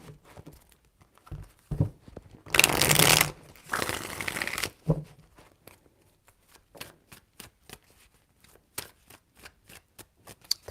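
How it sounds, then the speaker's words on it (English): Tarot cards being shuffled close by: a few quick riffles and a longer burst of rustling, then a string of sharp, evenly spaced taps as cards are squared or dealt. "Three shuffles."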